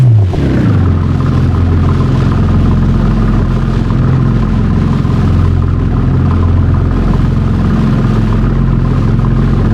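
BMW M2 Competition in the BeamNG driving game after being launched at 600 mph, a loud sustained engine rumble with a steady droning tone and no other sound over it.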